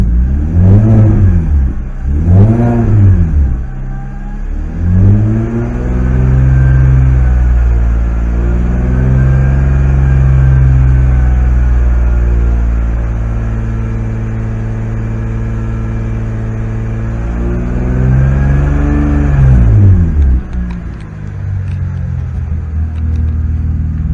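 BMW E46 ZHP with S52 headers and an SE46 exhaust, revved in two quick blips, then held at a steady raised idle for about fifteen seconds before dropping back. The exhaust note is loud and close, with no voices.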